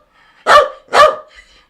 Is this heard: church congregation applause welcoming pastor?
no